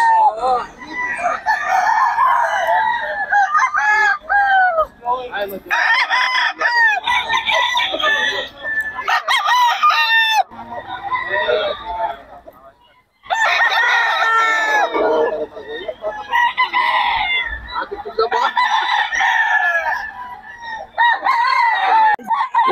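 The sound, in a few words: Sweater gamefowl roosters crowing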